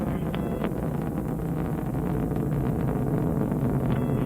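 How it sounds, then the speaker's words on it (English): Delta II rocket roaring during ascent as its solid rocket motors and main engine burn, a dense, continuous low rumble heard steadily and loudly from a distance, with wind buffeting the microphone. "the solid rocket motors are increasing their thrust during their 75-second burn"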